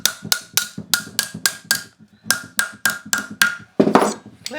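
A hammer taps a metal cuff bracelet on a mandrel to open it up, a quick run of bright metallic taps with a short pause midway, then a few more, close up with no talking.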